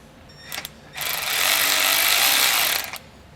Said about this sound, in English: I'm just using a small 3/8 impact, so you don't want to round these out.